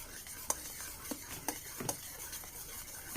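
Batter being mixed with a utensil as flour goes in a little at a time, soft scraping strokes with a few sharp clicks against the bowl, quiet and close.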